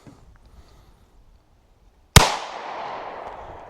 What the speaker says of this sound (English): Now we're just doing one-handed straight into the dirt.